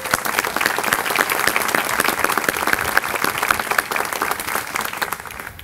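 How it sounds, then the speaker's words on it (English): A commencement crowd keeps up a thick, steady round of clapping that stays loud and even, then begins to thin slightly at the very end. "Another round of applause for Emma Colby"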